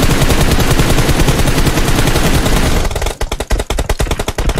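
Dense, continuous automatic gunfire in the BGMI mobile battle royale game, loud and sustained, then breaking into separate sharp bursts and single shots toward the end.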